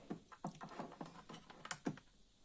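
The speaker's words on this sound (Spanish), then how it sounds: "hay que poner el código de usuario y la tecla entrar" User code being entered on a Honeywell Galaxy Flex alarm keypad: a run of about eight quick, close button presses with short beeps, steady and evenly spaced, with no talking.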